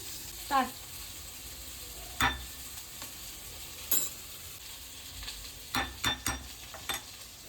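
Catfish curry with eggplant being sautéed in a pan: a constant soft sizzle broken by several sharp spatula scrapes and taps, close and steady with no voices.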